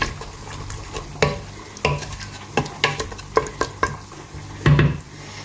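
Mutton curry with coriander leaves stirred in a pan, a low simmering sizzle punctuated by about ten distinct scraping strokes of a spoon against the pot, close and fairly loud.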